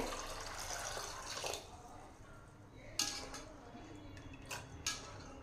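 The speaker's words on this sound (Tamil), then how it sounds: "இப்போ தண்ணி சேர்த்திட்டேங்க" Water is poured into a pot of soaked dried peas being readied for boiling for a street-style pea sundal, a soft, faint splashing wash with a few light clinks of utensils against the vessel.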